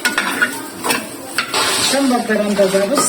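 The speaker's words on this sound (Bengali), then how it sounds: "খুদের ভাতগুলো বসিয়ে দিয়েছে আমি একটু নেড়ে দেখছি হচ্ছে কিনা" Khud (broken rice) cooking in a pot is stirred with a utensil, giving repeated scraping strokes over a steady bubbling sizzle, close and moderately loud.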